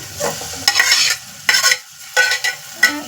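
Onion fries in a pan for dal palya, with loud sizzling bursts as it is stirred in four or five quick, separate strokes, close and without speech.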